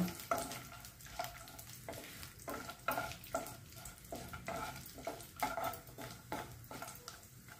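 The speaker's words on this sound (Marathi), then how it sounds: "1 टेबलस्पून तूप घालते। काजू बदाम परतवून घेते जरा" Cashews and almonds are stir-fried in ghee in a hot wok, a soft sizzle broken by regular scraping strokes of a spatula against the metal, close and steady with no voices.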